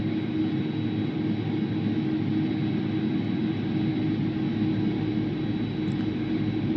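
A steady, loud jet engine roar from an Airbus A300-600 engine starting in the X-Plane 12 flight simulator fills the clip, a continuous whine and rumble without breaks, with no talking.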